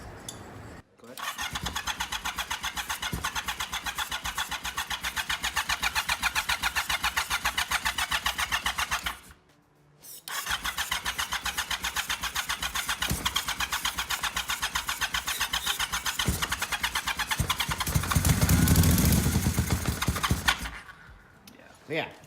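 A 1980 Yamaha XS850 motorcycle's starter cranks the engine in long, rapid, rhythmic bursts that never catch, pausing once briefly before cranking resumes, with people talking nearby.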